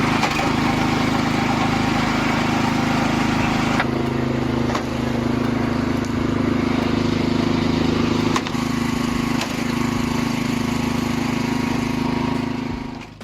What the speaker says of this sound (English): this is a very high-speed wood cutting machine model. A fairly large log is cut in an instant.